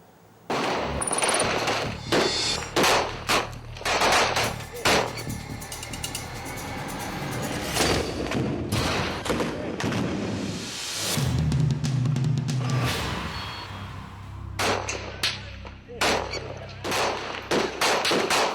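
Rapid bursts of gunfire crack out in quick succession, loud and close, with mechanical clatter and a low rumble between volleys during an armed encounter with militants in Poonch district; no talking.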